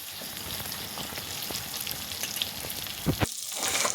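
Red chillies, including byadgi chillies, crackling in hot ghee for a dal tadka, a soft continuous sizzle with faint pops and a couple of sharper stirring knocks near the end.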